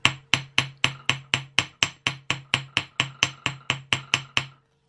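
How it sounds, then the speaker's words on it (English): A steel ball peen hammer taps a wire jump ring on a steel bench block for earring making, about sixteen sharp, evenly spaced metallic strikes, close and clear with no talking. "popped it on my block using the steel hammer, so the ball peen hammer, and just tappy tappy tappy again"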